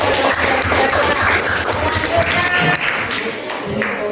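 A school audience applauds after a group presentation, with steady dense clapping throughout and some voices mixed in.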